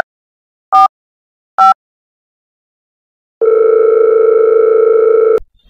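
Phone call being placed: two short electronic beeps, a pause, then a long steady ringback tone sounding loud and close before cutting off.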